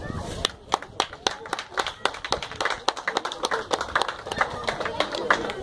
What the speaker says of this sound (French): Pendant que le président s'avance, nous acclamons